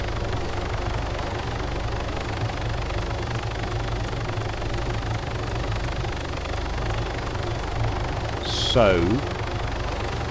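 A helicopter engine drones steadily and fairly loud throughout a flight in the video game ArmA 3, with a brief rising-falling whine near the end and a voice briefly speaking over it.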